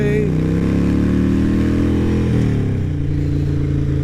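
A Harley-Davidson Roadster fitted with Vance and Hines Short Shots exhaust rumbles steadily while riding, a loud low droning engine note with a pitch shift partway through as it changes speed.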